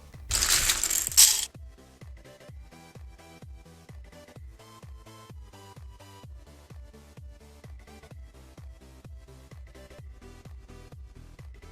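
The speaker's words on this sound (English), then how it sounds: "So first, gather up all your keys and just put them inside your bowl." Mechanical keyboard keycaps poured into a plastic bowl: a loud clattering rush at the start, then a long, steady run of light plastic clicks and rattles at an even rhythm, close and quiet, with no talking.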